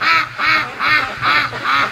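Ducks quack in four loud, evenly spaced bursts close by, each a harsh nasal call, on a warm night at a creek leading to a lake where free-range ducks are being raised.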